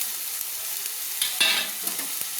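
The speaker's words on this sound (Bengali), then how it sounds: "দিয়ে ভালো করে নেড়ে নিচ্ছি।" Ginger-cumin paste being stirred in a frying pan while making ghugni, a steady close sizzle with a few brief scraping strokes of the spoon, no voices.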